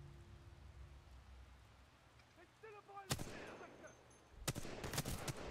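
Gunfire from enemy soldiers in the shooter video game Titanfall 2, with two bursts of sharp shots cutting in after a quieter stretch of ambient game noise.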